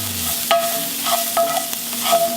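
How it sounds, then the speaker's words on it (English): Shallots sizzle in a hot skillet used for searing a prime NY steak, with a spoon scraping and stirring through them in several quick strokes over a steady frying hiss. "I'm going to add my shallots. I'm just going to give this a little bit of mix"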